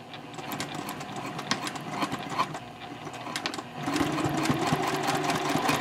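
A sewing machine stitching the bottom lining panel of a bowler bag at a 2.5 stitch length, a rapid continuous mechanical whirr and needle clatter that grows louder and steadier partway through, with no voices.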